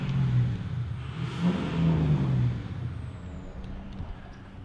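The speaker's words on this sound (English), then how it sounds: "You can hear the guy back there revving up his power stroke." A Ford Power Stroke diesel pickup engine revs in the distance, rising and falling twice over a low rumble of traffic, then settling back.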